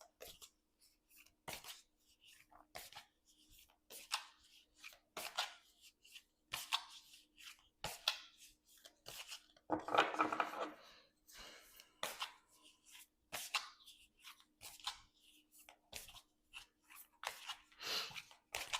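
Oracle cards shuffled and handled during a Leo reading, giving a run of close, dry papery flicks and taps at an uneven rhythm, with one longer riffling burst in the middle and no voice over it.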